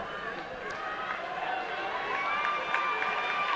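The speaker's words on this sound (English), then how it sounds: "Cheering on that threesome out front." Crowd at a high school boys 1600 meter track race cheering steadily as the leading runners come down the front straight, a dense, continuous roar of many voices at moderate distance.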